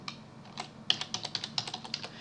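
Typing on a computer keyboard during Photoshop work: a quick run of light, crisp key clicks in an uneven rhythm, close and fairly quiet, with no voice.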